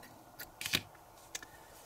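Scissors snip crochet yarn in a few quick, light cuts, close and quiet, with near silence between.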